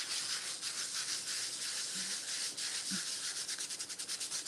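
Steady scratchy rubbing of sandpaper against a Mod Podge-coated surface, continuous back-and-forth strokes, close and fairly loud with no talking.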